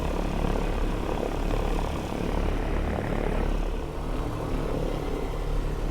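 Propeller engines of a 1944 DC-3 Dakota rumble steadily at close range while the airliner taxis slowly from a terminal, a continuous low drone with no voices.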